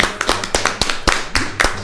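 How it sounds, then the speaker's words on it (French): A pair of hands claps in quick, steady applause, about four claps a second, sharp and close throughout. "Voilà, j'applaudis."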